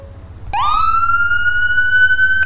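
A police car siren in Garry's Mod abruptly starts and holds a steady electronic wail, loud and close, over a low engine rumble.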